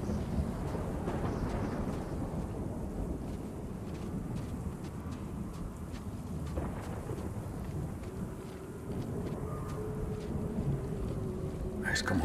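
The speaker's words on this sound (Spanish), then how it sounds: "Tengo que escapar de esta tormenta." A heavy thunderstorm rumbles in The Callisto Protocol, with a dense continuous roar of rain and wind and low thunder rolling throughout, loud and unbroken.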